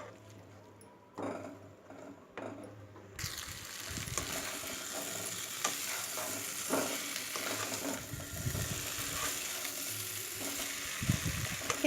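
Jackfruit and potatoes are sautéed in a pan: quiet at first, then after about three seconds a steady close sizzle sets in, broken by irregular scraping and clattering stirs.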